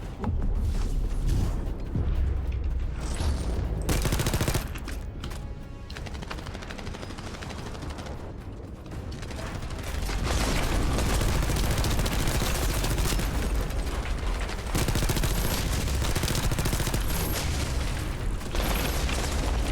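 Sustained automatic weapon fire from a shooter game, The First Descendant, with dense rapid bursts and booming impacts running nearly the whole time, loud and close, briefly easing in the middle before resuming hard.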